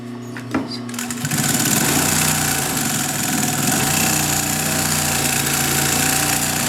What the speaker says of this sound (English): So you can see you have a lot of control with this clutch motor.